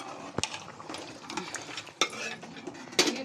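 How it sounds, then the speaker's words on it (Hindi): A utensil stirs ground masala into Lucknowi chicken biryani in a metal pot, making clinks and scrapes at an uneven pace over a faint sizzle. "ये देखिए पूरा मसाला जो पीसा था सब डाल दिया इसमें। तो अच्छे से मिला देंगे पूरा।"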